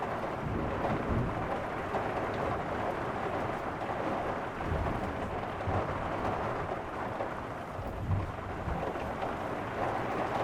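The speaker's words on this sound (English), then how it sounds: "right now I have a major thunderstorm rolling in" A major thunderstorm rolls in on a hot day, with a steady, dense hiss of heavy rain and low rolling thunder rumbling beneath it, continuous and fairly close, with no talking.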